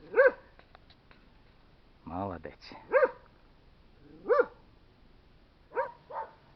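Dogs in a Ukrainian village bark in short separate bursts, about five or six loud close barks with pauses between them, and someone speaks briefly.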